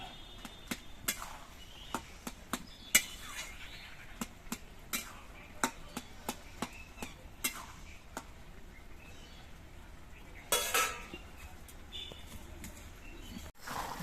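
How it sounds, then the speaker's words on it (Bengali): Bottle gourd shukto cooking in a pan as the lid comes off and a spoon stirs it: a steady run of sharp, close taps and clicks, one brief scraping rush, and faint bird calls in the background. "আমি ঢাকনাটা খুলে নিচ্ছি লাল শুক্তোটা আর একবার নেড়ে চেড়ে দিচ্ছি"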